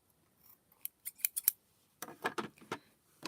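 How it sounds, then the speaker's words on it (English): Scissors snip thread ends while rope coasters are finished, a run of short, close crisp cuts, first spaced and sharp, then a denser rustling flurry of snips with no talking. "Just don't cut your threads. And just trim it."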